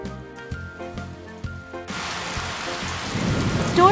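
Steady rain and a deep rumble of thunder swell together after a brief quiet opening, the downpour growing louder toward the end.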